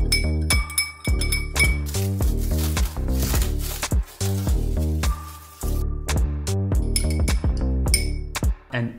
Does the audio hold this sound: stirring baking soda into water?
yes